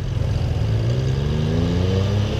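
A BMW R NineT motorcycle engine revving nearby, a steady, loud rumbling drone with the pitch gently rising and falling as the throttle changes.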